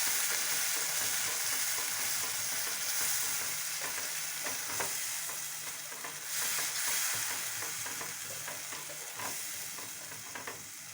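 Ground masala for an Andhra-style brinjal gravy curry fries on a low flame, a steady soft sizzle with occasional scraping stirs, close and continuous with no talking.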